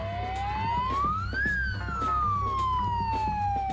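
An emergency siren in Delhi rises and falls in one long wail over traffic rumble, loud and fairly near, with a few short horn-like blips.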